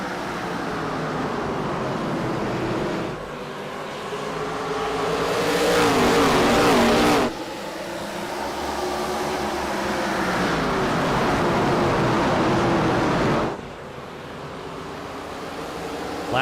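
ARCA race cars roaring away at the green flag on the Richmond short track, a loud sustained engine drone that swells and sweeps as the pack accelerates past, with no talk over it.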